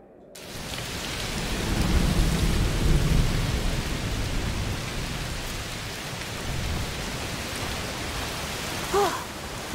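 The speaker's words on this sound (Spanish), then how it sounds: "¡Llueve mucho!" Heavy rain pours steadily in a dark storm scene from the video game A Plague Tale: Requiem, with low thunder rumbling beneath the constant hiss of the downpour and no voices over it.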